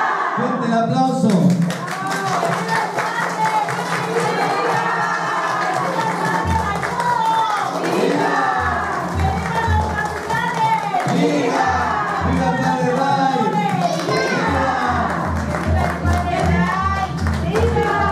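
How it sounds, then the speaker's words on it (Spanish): A crowd in a Catholic chapel celebrating its second anniversary cheers loudly with shouting voices and some scattered clapping, a sustained, lively roar heard close. "¡Fuerte el aplauso!"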